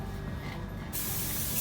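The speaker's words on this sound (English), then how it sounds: "You can be able to tell when you need to spray the cloth again" Stainless steel cleaner is sprayed from a bottle onto a cloth during elevator polishing: a short soft spray, then one crisp, close pump burst of mist that holds steady to the end.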